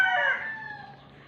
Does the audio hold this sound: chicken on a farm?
yes